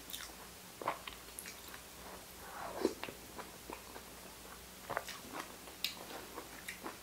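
Quiet, close chewing and crunching of fresh vegetables dipped in a chili coconut dip, with soft bites and irregular mouth sounds in a calm setting.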